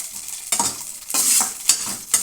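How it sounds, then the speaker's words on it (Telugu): Green chillies fry over medium heat in a pan, loud close sizzling that swells in bursts as they are stirred and tossed, with scraping under the hiss and no voices. "కొంచెం మీడియంలో పెట్టుకొని వేపుకుందామండి పచ్చిమిరపకాయలు."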